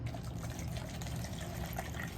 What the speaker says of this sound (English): I have some rubbing alcohol from the dollar store. And I am going to pour it.